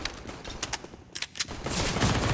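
Close-range SMG fire against Glock pistols in Counter-Strike on the Overpass map: several sharp bursts of shots early on, then a denser, sustained stretch of rapid gunfire to the end.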